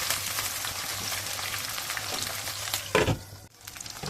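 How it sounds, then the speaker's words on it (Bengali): Bay leaf, chopped onion and garlic frying in hot oil in a pan for a beef tripe dish: a loud, close, continuous sizzle with a brief clatter of stirring near the end. "এগുলি আমি একটু সামান্য ভেজে নেব।"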